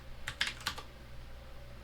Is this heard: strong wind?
no